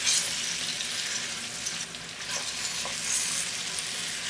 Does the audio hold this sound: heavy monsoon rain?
no